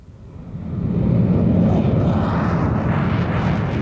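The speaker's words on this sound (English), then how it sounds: "Mr. Spriggs, if you lot at Heathrow allow more night flights, we'll get this noise all the time" A jet aircraft on a night flight near Heathrow roars overhead, its loud broadband rumble swelling within a second and holding steady as it passes close by.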